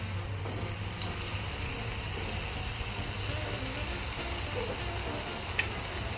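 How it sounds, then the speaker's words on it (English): Steady, broadband sizzling hiss of steak frying on a hot grill, continuing evenly with a faint crackle and no voices. "Should have a nice sizzle when it goes on."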